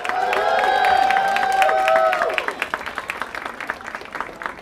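An audience packed into an Apple Store for a Megan Fox appearance applauds and cheers. A tonal ringing dominates the opening, then scattered, lively clapping trails off toward the end.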